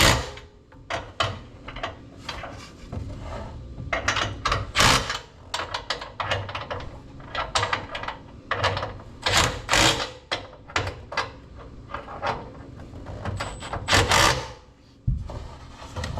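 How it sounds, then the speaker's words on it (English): Bolts are tightened on a boat trailer, with a busy series of metallic clanks, ratchet clicks and scraping knocks in uneven bursts, close and fairly loud, with short pauses between efforts. "Now I can go underneath there and tighten them bolts."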